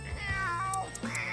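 A kitten gives a few high, wavering meows in quick succession, close and clear, with no talking.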